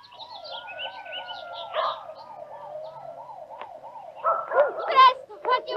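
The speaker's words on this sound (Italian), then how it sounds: "Ci sono tante autopompe dei vigili del fuoco laggiù." Wailing fire engine sirens at a nighttime fire, several overlapping sweeping tones rising and falling steadily, with a dog barking and short voices breaking in near the end.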